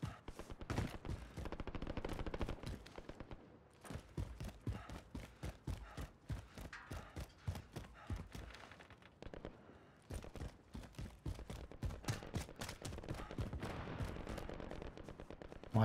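Rapid bursts of gunfire rattle behind a market in the Warzone battle royale game, dense overlapping shots and automatic fire crackling continuously at close-to-mid distance with brief lulls.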